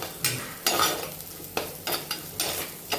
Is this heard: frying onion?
yes